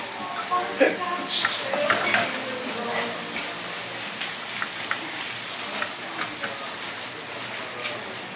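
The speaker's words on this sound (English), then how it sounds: "And what I like to do is sort of sear the bottom." Korean tteokbokki rice cakes searing on the bottom of a hot pan give a steady close sizzle, broken by scraping stirs and clinks of a utensil against the pan.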